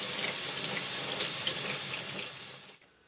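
Water streams steadily from a tap to gently rinse both sides of a silkscreen for printing T-shirts, a loud continuous splashing rush that fades and cuts off near the end.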